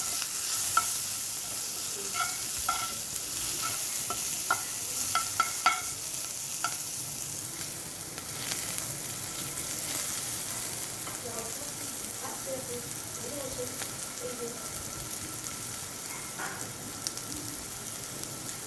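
Chicken frying with capsicum in a pan, a soft, steady sizzle broken by occasional spatula scrapes and clinks as the pieces are stirred, fairly quiet throughout.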